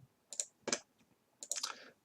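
Three quick mouse clicks pressing a disconnect button while setting up a Curie Nano BLE connection, sharp and close with short gaps between them and no talk over them.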